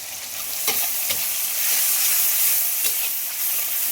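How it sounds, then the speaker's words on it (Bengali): Tomatoes frying with turmeric and salt in a pan for a Bengali fish dish, giving a loud continuous sizzle with a few spatula knocks, near and unaccompanied by voices. "টমেটোটা একটু ভাজা ভাজা হয়েছে"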